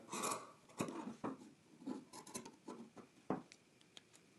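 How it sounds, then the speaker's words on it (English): Scissors snip through fabric while sewing a garment, trimming off excess past a folded edge: a series of close, crisp cutting crunches at an irregular rhythm, with no talking. "I'm just going to cut the rest of this off"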